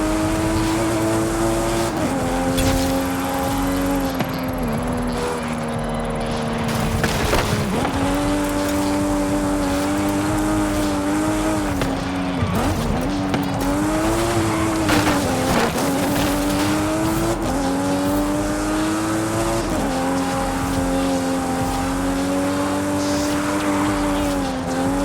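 A car in Forza Horizon 5 blasts through a speed zone, its engine roaring loudly with rising and falling pitch through gear shifts, tire noise woven in, continuous and close.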